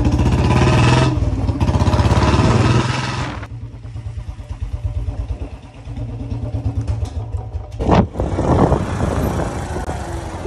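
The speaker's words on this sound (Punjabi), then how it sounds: "ਮੈਂ ਹਨੇਰਾ ਤੇ ਮਿਲਖਾ ਇੱਕ ਮੋਟਰਸਾਈਕਲ ਤੇ, ਬਾਕੀ ਦੇ ਅਲੱਗ ਅਲੱਗ ਅਲੱਗ ਮੋਟਰਸਾਈਕਲ ਤੋਂ ਆ ਰਹੇ ਨੇ" A group of motorcycles riding together, including a Royal Enfield Bullet BS6 fitted with a long exhaust, giving a loud, close, steady thumping engine drone that dips briefly and then swells again as bikes pass.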